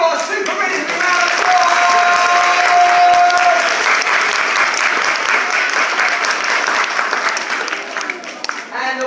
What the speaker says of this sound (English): Can we give our Super Minis a round of